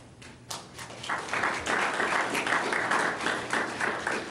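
Steady applause from a city council meeting audience, building after a brief start and continuing as a dense, even patter of many hands clapping.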